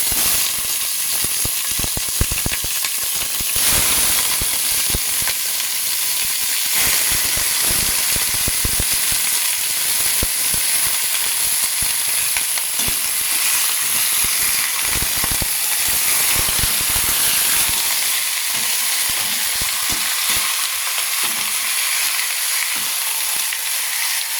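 Onion and pork sizzle steadily in a hot pot for pork nilaga, a loud, continuous frying hiss with faint scattered crackles and occasional stirring clatter running unbroken throughout.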